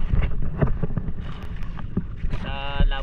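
Strong wind buffets the microphone on a boat near an island reef at sea, a steady rumbling roar with a whistling tone rising toward the end, and voices talking beneath it.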